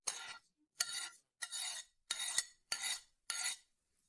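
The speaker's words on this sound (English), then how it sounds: "Here I am more than sure that any paint will be scratched with a screwdriver like this." A screwdriver scrapes hard across a painted surface in six separate gritty strokes, evenly spaced about every half second, close and crisp with silence between each scrape.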